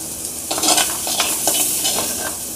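Cooked green vegetable bhurji scraped and stirred from a hot pan into a bowl, with soft sizzling and several spatula scrapes and metal clinks close by, no voices.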